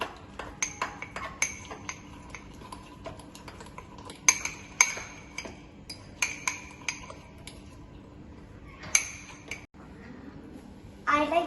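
Apple mug cake batter with apple pieces being mixed in a mug: a spoon clinks against the cup in repeated sharp taps and scrapes, near and moderately loud, over a quiet background with a soft voice.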